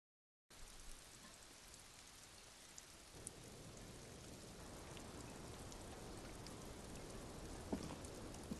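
Steady rain falls in the video game Disco Elysium, a soft hiss that thickens partway through into a denser, continuous patter with occasional faint drop ticks, no voices.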